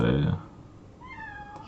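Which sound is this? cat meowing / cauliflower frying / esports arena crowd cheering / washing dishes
cat meowing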